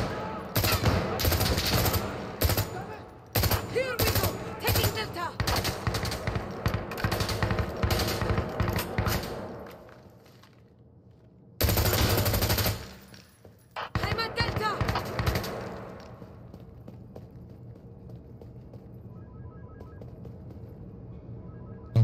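Heavy gunfire in the Insurgency: Sandstorm video game: dense, rapid automatic bursts and loud shots fill the first ten seconds, then a sharp renewed volley and scattered shots before it fades to quieter ambience.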